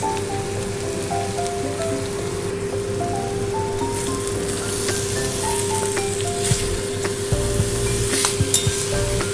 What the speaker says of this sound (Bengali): এবারে দিয়ে দেবো 1 চামচ ঘি